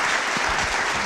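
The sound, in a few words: audience applause for a speaker at a museum event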